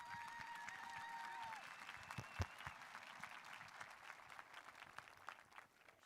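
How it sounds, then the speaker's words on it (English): A graduation crowd claps for the honorary dignitaries at a high school ceremony, a broad, distant wash of applause with scattered cheers that slowly tapers off. "help me give a round of applause for all our honorary dignitaries here today"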